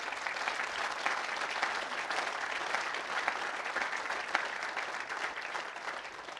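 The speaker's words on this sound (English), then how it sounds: "all of our Honors College students deserve a big round of applause" Steady applause from a crowd at a university honors college student recognition event fills the whole stretch, an even wash of clapping with no voices over it.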